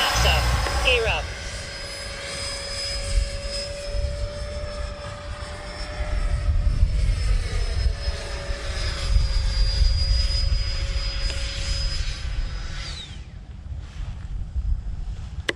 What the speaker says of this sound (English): Taking up the Freewing F-15, Flaps 50. 90 millimeter.